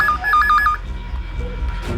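A telephone rings with a repeating electronic two-tone trill for about three quarters of a second, followed by a low background rumble and faint room noise, in a tense crime drama scene.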